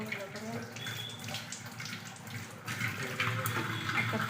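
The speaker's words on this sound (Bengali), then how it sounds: "একটা একটা করে পাতাগুলো ধুয়ে নিচ্ছি" Leaves washed one at a time under a running kitchen tap, a steady splashing stream at moderate level with small shifts as each leaf passes through the water, growing slightly louder toward the end.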